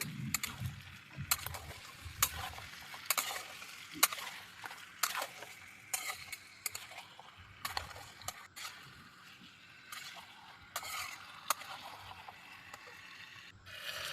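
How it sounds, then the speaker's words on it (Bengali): Marinated chicken with whole spices is stirred and fried in a pan, giving a soft ongoing sizzle punctuated by irregular scraping and clinking of a spoon against the metal, quiet and close. "এবার মাংসগুলো যেগুলো মেখে রেখেছিলাম সেইটা দিয়ে নেব দিয়ে এটাকে আমি একটু কষিয়ে নেব ভালো করে নাড়িয়ে চাড়িয়ে"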